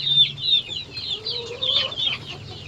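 Rooster clucking in short repeated bursts close by, a young cock being prepared as a breeding male, with a low steady hum underneath and no voices.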